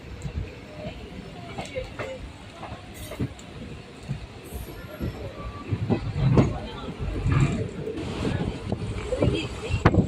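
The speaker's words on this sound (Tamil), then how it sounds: "இப்போ நம்ம ட்ரெயின் ரொம்ப ஸ்பீடாக போய்ட்டுருக்கு" An Indian Railways train rumbles and rattles along at speed, growing louder toward the end, with bursts of noise from the carriage around the listener.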